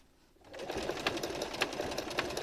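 A sewing machine stitches fabric for a cushion cover, starting up after a quiet moment and then running in a steady, close whirring hum with faint rhythmic ticks.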